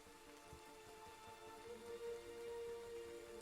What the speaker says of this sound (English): Will it be raining like this all day? Hasn't let up.